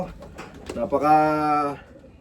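A single hand-held pigeon from a pigeon loft gives a short, low rolling coo close up, preceded by a few soft handling rustles.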